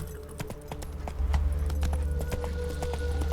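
A horse gallops in The Witcher 3, its hooves giving a quick, rhythmic clip-clop that is close and steady and picks up pace partway through, over a low game rumble.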